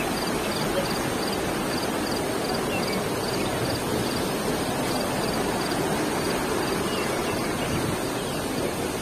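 A river rushes between rocky walls in the Sapadere Canyon in Alanya, Turkey, giving a steady, dense, loud roar of flowing water with no pauses, a faint high insect-like chirp running beneath it.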